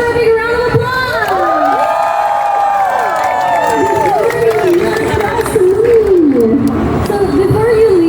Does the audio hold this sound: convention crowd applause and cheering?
yes